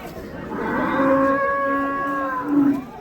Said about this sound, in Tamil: ஸோ நாட்டுக்காளைங்க.